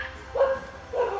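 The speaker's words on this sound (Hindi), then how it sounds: "कुत्ता भौंके जा रहा था तो टाइग्रेस बाहर नहीं आई।" A street dog barks twice near a tiger's safari area, two sharp yelping barks about half a second apart, fairly close and clear against quiet outdoor background.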